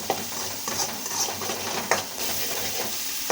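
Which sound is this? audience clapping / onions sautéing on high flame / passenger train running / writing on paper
onions sautéing on high flame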